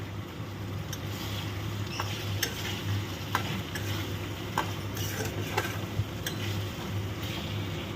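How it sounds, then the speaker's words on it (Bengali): Sweet corn kernels stirred in a frying pan, a low steady sizzle under repeated light clicks and scrapes of a spatula against the pan, close and even, with no talking. "এটাকে একটু 2 থেকে 3 সেকেন্ড একটু নেড়ে নেব"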